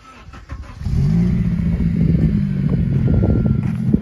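A right-hand-drive Honda Civic Type R FN2 engine starts after a brief starter whir, then settles into a steady, fairly loud idle with a low, even rumble.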